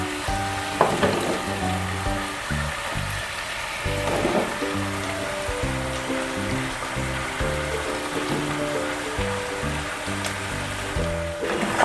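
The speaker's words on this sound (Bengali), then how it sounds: "অল্প করে আমি একটু নেড়ে দিচ্ছি" Potato and pumpkin curry sizzles and crackles in a pan as it is stirred, with a steady close frying hiss broken by occasional scraping knocks, no talking.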